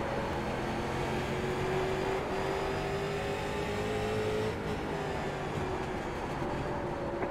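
Race car engines in an iRacing league race at Daytona roar in a dense, sustained drone at the green flag start, with a whining tone climbing slowly in pitch and no voices.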